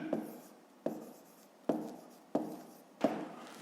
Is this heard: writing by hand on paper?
yes